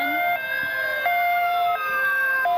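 Fire engine siren from a truck in a 1994 Santa parade in Beverly, Massachusetts, wailing in a steady loud up-and-down pattern of long rising and falling tones that repeats several times, heard close by.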